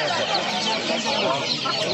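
Several chickens cluck continuously close by at a poultry market in Nookat, a busy, dense chorus of overlapping clucks.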